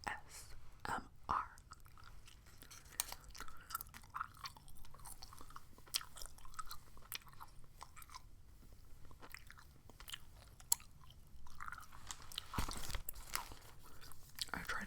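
Close, moist gum chewing with soft smacking and crinkly page-turning sounds, mixed with quiet whispering throughout, in a book-talk ASMR setting.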